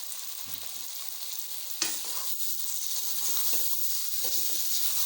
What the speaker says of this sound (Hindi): दो मिनट तक चिकन को भूनते हैं।